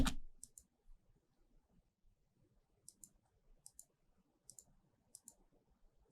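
Computer mouse clicks, a quick series of faint, crisp double clicks spaced irregularly, preceded by a louder tap at the very start, heard close with quiet background.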